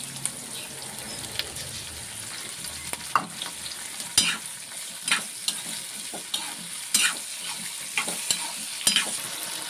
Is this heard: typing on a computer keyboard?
no